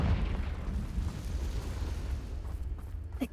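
A Confringo fire spell explodes in Hogwarts Legacy, a heavy rumbling blast that booms at the start and rolls on as a loud low roar before fading, with a short sharp crackle near the end.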